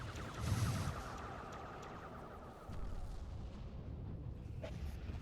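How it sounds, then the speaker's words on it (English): An explosion in a Star Trek Armada 3 mod, Ages of the Federation, rendered as a quiet, muffled low boom with a rumbling tail that swells again midway through, with no talk over it. "Oh, there's an explosion."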